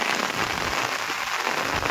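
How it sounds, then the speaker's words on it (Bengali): Heavy rain beats down on a fishermen's small wooden dinghy out hilsa fishing, producing a thick, unbroken wash of drumming drops, close and loud. "বৃষ্টি অনেক জোরে এলো,"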